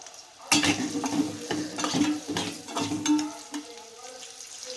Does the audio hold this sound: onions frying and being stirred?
yes